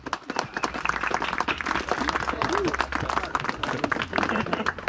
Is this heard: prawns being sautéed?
no